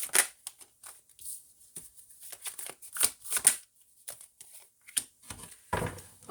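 Tarot cards are shuffled by hand in short riffling bursts and soft slaps, close and fairly quiet, with brief pauses between handfuls.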